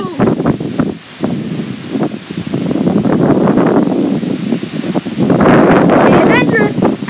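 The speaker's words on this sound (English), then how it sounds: "Let's wait for a big gust." Strong gusts of wind rush through rustling trees in woods, loud and sustained with buffeting on the microphone, while a person talks over it.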